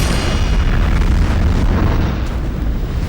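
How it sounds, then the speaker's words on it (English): A massive electromagnetic explosion with a heavy shock wave, rendered as a sustained deep roaring rumble that stays loud and dense for several seconds before easing slightly, with no voices. "rupturing into an electromagnetic explosion followed by a massive shock wave"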